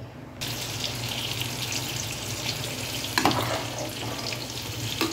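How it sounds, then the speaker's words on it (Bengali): Chicken akhni pulao boils hard over high heat, giving a steady, close bubbling hiss that runs unbroken from start to finish with no talking. "এইবারে 5 মিনিটের মতো এটা আমি হাই হিটে ফুটিয়ে নেব।"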